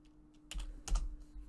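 A few quick clusters of keystrokes on a computer keyboard, close and fairly quiet, with a short burst around midway and a second burst soon after, against a low steady hum.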